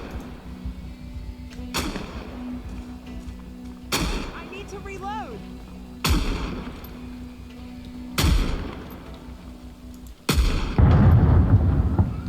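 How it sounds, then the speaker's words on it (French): Video game explosions and artillery fire boom out in heavy blasts about every two seconds. A low steady hum runs underneath, a whistling sweep passes through the middle, and the final blast is the loudest and longest. "Ça y est, il commence à avoir les explosions."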